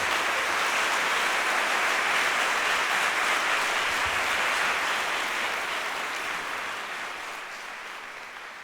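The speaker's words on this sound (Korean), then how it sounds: "큰 박수로 맞이해 주시죠." Audience applause welcoming the performers of a Bach period-instrument concert and lecture: dense, steady clapping from a crowd that holds strong for several seconds, then gradually fades.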